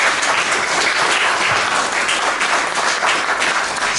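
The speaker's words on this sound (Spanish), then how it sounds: "Recibamos con un aplauso caluroso a nuestros invitados." Warm, loud applause from an audience welcoming guests at a book presentation event, a steady, dense roar of clapping sustained evenly throughout without speech.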